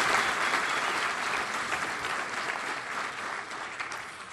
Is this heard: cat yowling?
no